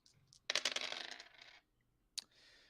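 Dice rolled during a tabletop role-playing game, a short burst of clattering rattles that settles, followed by a single sharp click and a faint trailing rattle.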